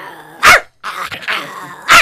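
A human voice imitates a long-haired Chihuahua, giving two sharp, loud yipping barks with growly, snarling sounds between them, close and alone.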